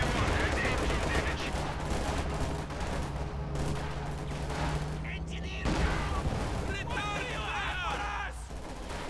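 Sustained gunfire and rattling machine-gun bursts from the video game Company of Heroes 2, dense and continuous with booming impacts, under a commentator's voice.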